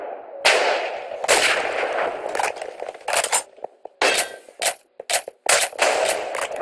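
Gunfire in a video game: a string of loud, sharp shots and short bursts, some ringing out in a steady roar and others as separate cracks with short gaps between them.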